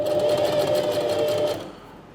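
A sewing machine stitches a small coin purse at a 3mm stitch length, running in a steady, even whir up close before slowing and stopping near the end.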